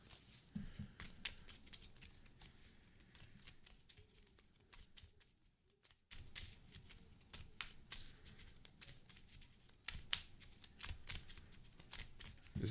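Marvel Champions LCG playing cards being shuffled back into a deck: a run of quick, crisp riffling bursts, close and fairly loud, with a short pause midway before the shuffling resumes.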